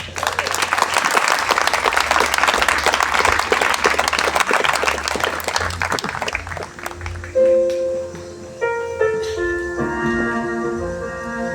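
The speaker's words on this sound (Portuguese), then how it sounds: "Uma salva de palmas." Guests at a fifteenth birthday party applaud in a dense, loud burst of clapping for about six seconds, then it thins out as sustained music comes in and takes over.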